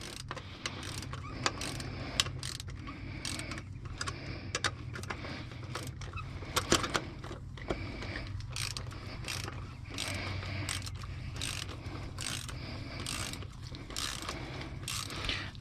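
A ratchet turns an oiled nut on the turbocharger of a 2007 Freightliner Columbia truck, making close, steady rapid clicking strokes in repeated bursts over a low background hum, with no talk.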